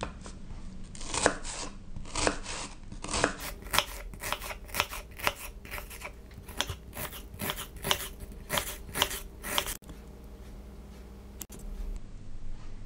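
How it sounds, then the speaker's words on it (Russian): A knife chops an onion into small cubes rapidly and steadily on a cutting board, crisp close-up strikes in quick rhythmic bursts with a brief pause near the end. "Для этого нарезаем лук мелкими кубиками."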